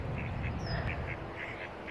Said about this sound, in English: I have these ducks over here